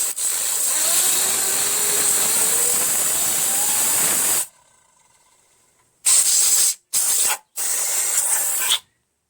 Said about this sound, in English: This compressed air thing with the nozzle.